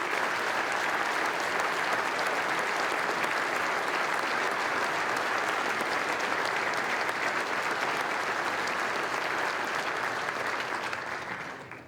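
An audience applauds MLAs at a provincial State of the Province address, giving a dense, sustained round of clapping that stays even for about twelve seconds before fading at the end, with no voices on top.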